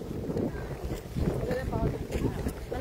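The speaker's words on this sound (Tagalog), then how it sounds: "Malakas ang hangin, kaya mahirap magparaan." Strong wind gusts buffet the microphone outdoors, a continuous low roar with rushing bursts, while people chat nearby.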